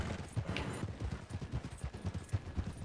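Horse hooves clip-clop in a steady, repeating rhythm while riding in the Red Dead Online video game, the footfalls close and moderately loud over a low rumble, with a faint bright sound flaring briefly.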